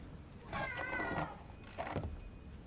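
A cat meows twice in the video game Forspoken, a clear drawn-out mewl followed by a shorter second call, close and fairly quiet over faint background ambience.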